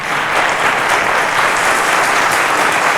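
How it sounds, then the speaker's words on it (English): A studio audience on a televised quiz show claps loudly and continuously, a thick, even burst of applause with no voices over it. "A round of applause to them."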